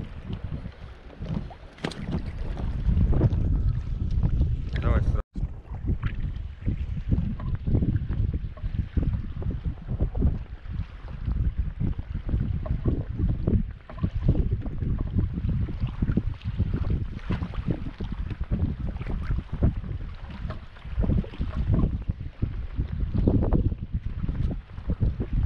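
Strong gusting wind buffets the microphone over sloshing water and waves against a small boat, loud and continuous throughout.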